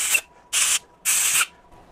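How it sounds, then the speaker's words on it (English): Compressed air blasts debris out of a cylinder head bolt hole in three sharp hissing bursts, each lasting about a quarter second, close up with short gaps between them. "Now, the first thing in this situation is I want to blow out this hole."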